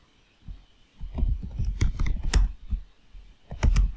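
Keys clicking on a computer keyboard while a Linux Mint terminal command is typed, a quick irregular run of close taps ending in a firmer keystroke, with no voices.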